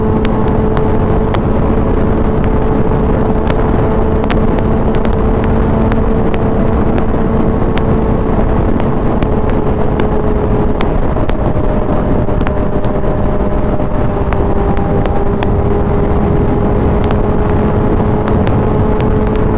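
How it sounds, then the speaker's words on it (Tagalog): A loud, constant motorcycle exhaust drone with wind rush, steady throughout as if moving at speed, with no voices. "Ramdam ko yung hangin, yung tunog ng tambutso."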